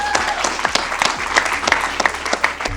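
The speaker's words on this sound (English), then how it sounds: "Another round of applause for Loose Content." An audience claps for the performers Loose Content at a comedy show. The clapping is close and lively, with distinct sharp claps over a steady wash, and it cuts off abruptly near the end.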